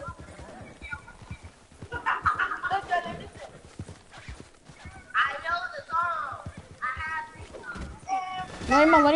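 In a video game, hoof beats of a horse clatter along with faint whinnies, mixed beneath lively player chatter that swells and fades.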